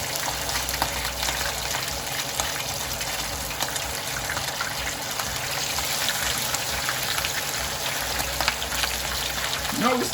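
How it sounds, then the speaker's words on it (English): Red snapper frying in oil in a skillet gives a loud, steady sizzling hiss with fine crackles, continuous and close throughout, with no voices. "Getting ready to fry my fish."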